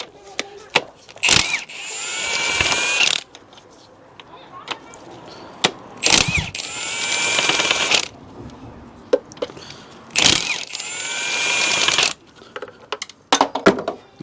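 Ratchet wrench undoing the engine mounting bolts on a Ford Focus MK1 1.4/1.6, three long bursts of rapid clicking ratcheting separated by sharp metallic knocks and pauses, loud and close.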